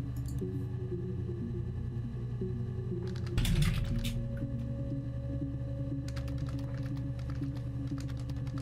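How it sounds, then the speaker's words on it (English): Computer keyboard typing in short clustered bursts of clicks, with a brief louder flurry near the middle, over a steady low droning background. "I'm trying to type with my hands like around a microphone."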